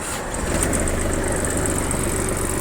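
A 4WD mini tractor with reverse and power steering starts, and its engine settles at once into a steady, close, loud diesel-like idle that drones evenly with no voices.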